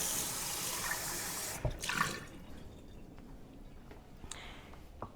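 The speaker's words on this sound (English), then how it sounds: "I'm going to just pour this into the sink and rinse my cup out." Water from a Ninja Luxe Cafe drink splashes into a sink as a cup is rinsed, then a brief clatter and rinsing sounds follow, with a few soft drips and knocks near the end.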